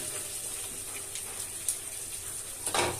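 Water poured steadily into a pot of chicken curry cooking with papaya, a continuous splashing gush with a brief stronger surge near the end, no talking.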